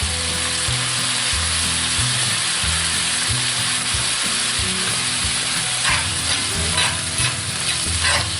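Merlot red wine is deglazing a hot steak pan with beef trimmings, giving a loud, continuous sizzle and bubbling hiss alongside repeated scraping stirs at close range, with no talking.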